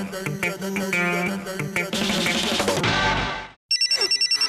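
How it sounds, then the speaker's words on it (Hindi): Telephone ringtone bursting out over a loud music track in a Hindi comedy scene, then after a brief gap a clear repeating electronic ring pattern pulses on its own near the end. "तेरा फोन बज रहा है"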